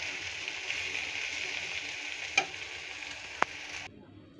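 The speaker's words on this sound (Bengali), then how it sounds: "এই পর্যায়ে ভাজিটা কিন্তু একটু পরপর নেড়ে দিতে হবে, নতুবা ভাজিটি কিন্তু কড়াই সাথে লেগে ধরবে।" Water spinach (kolmi shak) stir-fry sizzles steadily in a wok as it is stirred, with two sharp metallic clicks of a utensil against the pan before the sizzle cuts off near the end; no voices.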